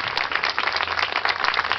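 A crowd claps continuously at a religious procession for Nuestra Señora de la Reconciliación in La Molina, a dense, fairly loud, even patter of many hands with no voices over it.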